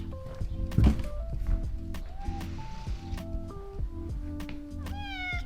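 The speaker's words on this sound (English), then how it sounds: "Hi, kitty." A cat gives a series of short meows nearby, with a few soft thumps and knocks in between.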